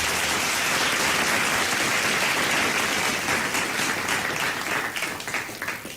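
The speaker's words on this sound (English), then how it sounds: "A round of applause, please." An audience at a Nigerian debate competition applauds loudly and continuously, dense clapping that holds steady before thinning out and fading near the end.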